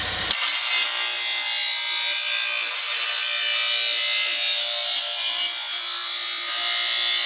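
A Millers Falls 1 hp bench grinder with 8-inch wheels runs steadily, giving off a continuous high, bright whirring hum that starts abruptly and holds loud and even throughout.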